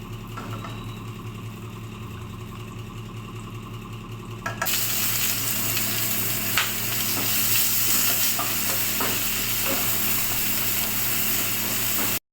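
Fish and fig curry stirred in a pan after ghee and garam masala go in, a loud sizzling frying hiss that jumps up sharply partway through, with spoon scrapes over a steady low hum.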